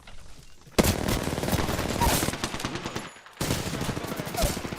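Rapid bursts of automatic weapon fire in the Apex Legends battle royale game, loud and dense for several seconds, breaking briefly before resuming, with faint voice chat under the shots.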